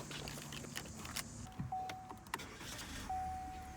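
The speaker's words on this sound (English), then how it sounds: "At least I know how to start the car now." A car is started, with mechanical clicks, a brief electric whir and a quiet engine catch, heard close inside the vehicle against steady low background noise.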